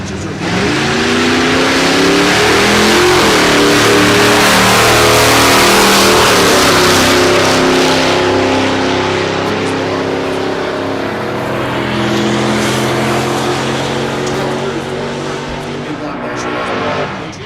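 A naturally aspirated big block Chevelle drag car launches and races at Texas Motorplex, a loud revving engine roar with rising and shifting harmonic tones, holding strong for many seconds, with an announcer talking over it.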